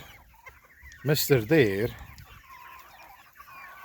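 A small but feisty rooster, kept with egg-laying hens, lets out a few loud, close clucks in a quick burst, followed by quieter background bird sounds and a brief spoken word.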